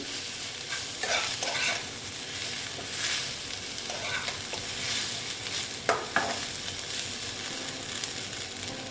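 Taro stolons stir-fried with Kashmiri red chili powder in a Bengali-style dish, giving a steady close sizzle with repeated scraping strokes of a spatula and a couple of sharper clinks near the end, no voices.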